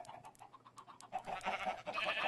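Minecraft sheep bleat in a quick run of short, evenly spaced calls, followed by louder, denser bleating and rustling toward the end.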